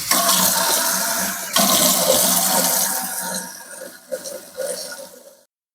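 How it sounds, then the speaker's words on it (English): Tap water pours steadily into a sink fitted with a newly installed strainer, a loud continuous rush that breaks off briefly, then resumes and trails into uneven splashes before stopping. "Now I don't want to just run water down like this."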